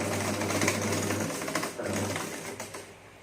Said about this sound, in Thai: ตัวนี้หนีบตัวเส้นลวดมันจะหนีบเส้นลวดนะครับทำให้เส้นลวดหมุนได้นะ